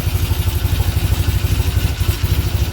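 A 1975 Norton Commando Mk3 motorcycle engine idles just under 1,000 rpm with a steady, even throb of close, regular pulses and a light mechanical clatter, no talking.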